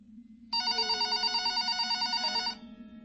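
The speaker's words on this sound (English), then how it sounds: "the phone on the counter rang." A telephone on a shop counter rings in one steady two-second electronic burst of pulsing tones over a low background hum, fairly close and alone.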